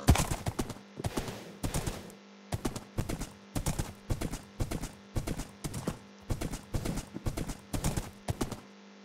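Horse hooves clip-clopping in the video game Minecraft, a steady run of crisp, evenly spaced hoofbeats heard up close and alone throughout.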